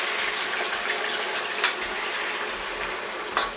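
Water poured into a pot holding boiled meat with sautéed carrots and onions, a steady close gushing flow with a couple of brief splashes.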